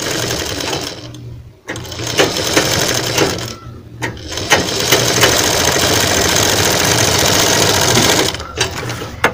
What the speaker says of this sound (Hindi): बढ़िया राउंड पर हल्के हल्के आपको मशीन चलाना है